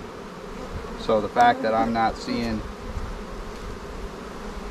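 Honeybees hum in a constant, even drone around an open hive during an inspection, with someone talking briefly over the buzz.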